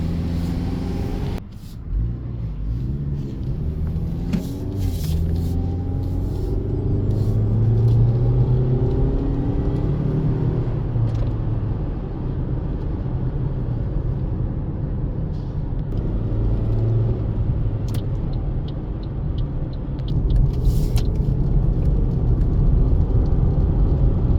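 Continuous interior road noise from a 2018 Toyota RAV4 cruising at highway speed, a steady low rumble of engine, tires and wind with a few bumps, lasting the whole stretch without talk.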